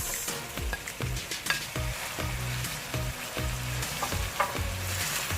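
Carrots, with potatoes and other ingredients, fry in a pan: a steady sizzle with rhythmic stirring scrapes and clunks repeating about every half second, close and alone with no talk.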